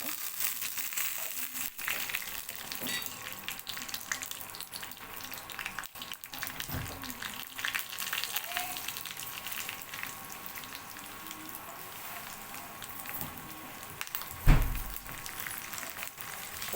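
Cumin, mustard seeds and garlic frying in oil, a faint continuous crackling sizzle with scattered pops and a louder knock near the end.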